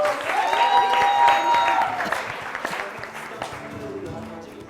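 Studio audience on a morning television show clapping in a thick, sustained wash of applause that tapers off toward the end while people talk over it.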